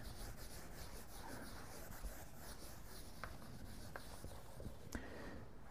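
Writing being erased from a board, a faint steady rubbing and scrubbing with a few light taps, quiet and without talk.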